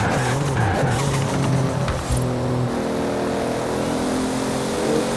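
Toyota Supra racing car in the Forza Horizon video game, engine revving hard with sustained tire squeal and skidding as it accelerates and drifts, loud and continuous throughout.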